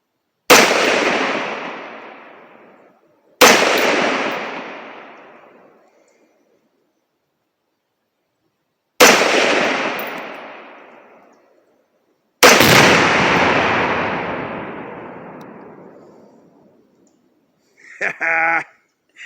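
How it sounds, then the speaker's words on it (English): Outdoors, rifle shots ring out at a target, and a 2 lb tannerite charge packed with a cell phone detonates. Four loud, sharp booms each roll away in long echoing tails, the last the heaviest and longest, before a brief warbling sound. "Now I'm gonna take a few shots at that target on the right, see where I'm at, and then boom!"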